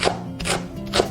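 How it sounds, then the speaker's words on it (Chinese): Scallion whites chopped with a knife on a board, three quick firm taps in a brief burst, close and clear. "准备一些葱白切小粒"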